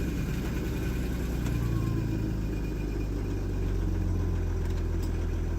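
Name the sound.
car engine cold start and idling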